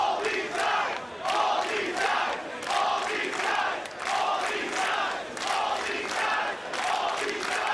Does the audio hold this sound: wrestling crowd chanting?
yes